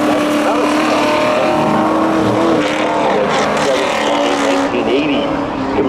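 Race cars roaring at a summer spectator drag race, with a loud, continuous engine drone filling the whole stretch while an announcer talks over the noise.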